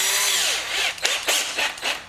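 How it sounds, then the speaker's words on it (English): Power drill running with a 3/16 drill bit while fitting a front splitter and canards on a C8 Corvette, a loud close whining drone that surges and dips in several short bursts as the bit bites in. "we're gonna use a 3/16 drill bit"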